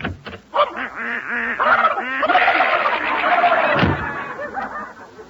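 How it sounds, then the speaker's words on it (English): Squawking and honking from a turkey and a duck fighting in a pantry, a radio comedy sound effect, burst out in rapid, harsh calls for several seconds. "Gracie, are Herman and that Tux and that Duck still fighting in the pantry?"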